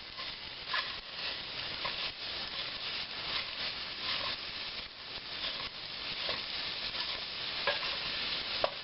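Sausage cooks in a pan while a utensil breaks it up, with a steady soft sizzle under repeated scraping and stirring strokes that continue throughout at moderate closeness.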